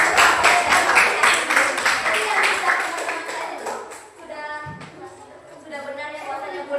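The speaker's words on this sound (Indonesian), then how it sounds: "Oke, tepuk tangan dulu." A school class claps hands together in a fast, rhythmic burst for several seconds, then the clapping fades out as voices carry on in the room.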